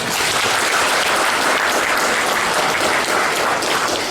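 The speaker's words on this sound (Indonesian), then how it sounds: "Sekali lagi tepuk tangan untuk Facebook." An audience at a business training event opening with Facebook and the city of Bandung claps loudly in a sustained, dense round of applause that fills the whole stretch without pause.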